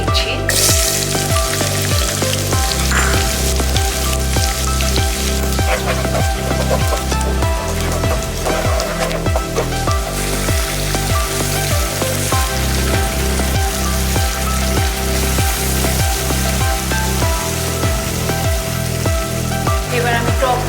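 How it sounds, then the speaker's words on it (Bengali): Onions frying in hot oil for beef pakki biryani, a steady loud close sizzle with crackling bursts that runs unbroken throughout, with no talk over it. "এবার এই তেলে প্রথমে আমি পেঁয়াজগুলো দিয়ে দিচ্ছি।"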